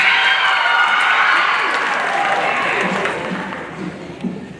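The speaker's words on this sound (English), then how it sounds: "Y'all give her a hand clap as she comes." A school audience at a student poetry slam applauds and cheers as their theater arts teacher comes up, a full crowd clapping that starts loud and gradually thins out, with some voices mixed in.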